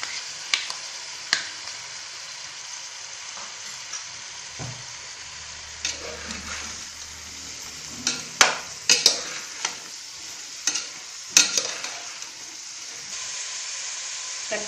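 Mixed vegetables with beans, bell pepper and peas frying in a pan for coconut palav, a steady close sizzle broken by repeated scraping stirs and clinks of the spoon, growing busier toward the middle, no talk.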